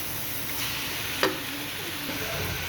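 Chicken keema with green chillies and spices being stirred in a hot pan, a steady soft sizzle with an occasional scrape or clink of the spoon, close and continuous, with no talking.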